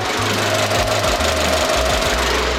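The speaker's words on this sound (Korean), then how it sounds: "영상으로 엔진 소음 한번 담아보도록 하겠습니다" A 2019 Jeep Cherokee KL gasoline SUV idles with its hood open, giving a steady, loud, even engine drone heard up close with a faint rhythmic ticking and no talking.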